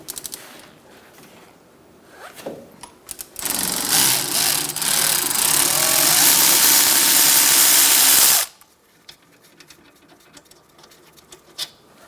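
A power tool with a 14mm socket removes the rear brake caliper bracket bolts on a 2002-2006 Honda CR-V, whirring loudly and steadily for about five seconds between quieter clicks and handling noises, with no talking.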